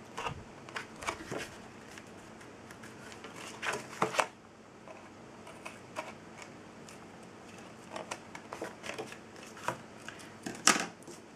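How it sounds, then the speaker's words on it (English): Paper snips trim the ends of paper for a journal page in a quiet room, with scattered short crisp snips and rustles in irregular bursts, no voices present. "I'm just going to trim the ends here using my paper snips"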